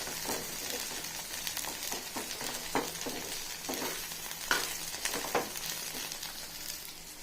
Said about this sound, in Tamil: கத்திரிக்காய் நல்லா சுருள வதங்கணும்